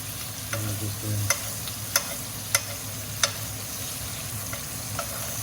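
Steak frying in butter with sage, thyme and garlic gives a steady close sizzle, broken by several sharp spatter pops and faint scraping of a utensil, with no talking.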